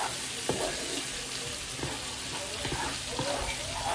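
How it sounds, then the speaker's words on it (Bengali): Spice paste sautéed in a hot pan while cooking pompano fish, a steady close sizzle and fry with occasional stirring scrapes and taps, fairly quiet and without talk. "মশলাটা ভালো করে একটু কষিয়ে নিলাম"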